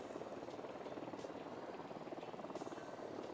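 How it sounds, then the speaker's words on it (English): A helicopter in the Ghost Recon video game, a steady broadband rotor and engine drone that holds at a fairly loud level throughout, with no speech. "And there goes the helicopter."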